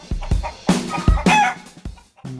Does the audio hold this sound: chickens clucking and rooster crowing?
yes